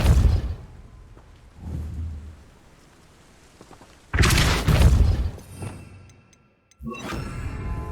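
Depulso spell effects in Hogwarts Legacy on PS5: several heavy booming blasts with rumbling, crackling tails, separated by quiet stretches, the loudest burst midway and another sharp hit at the end.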